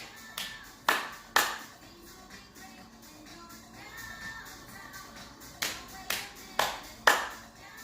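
Hand claps alternating with lap pats during a seated chair-exercise coordination drill: sharp, close claps in small rhythmic groups with quieter taps between them and faint voice in the background.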